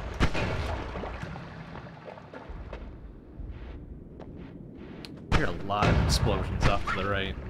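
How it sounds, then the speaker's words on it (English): Explosions in the video game Noita: a series of booming thuds and cracks, loud and close, with a heavier burst of blasts near the end over a rumbling background. "Explosions off to the right."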